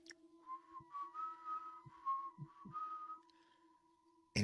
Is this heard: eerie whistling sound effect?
yes